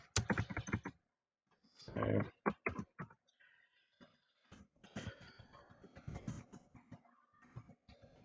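Quick bursts of close computer-keyboard typing, clattering keystrokes in short runs separated by brief pauses.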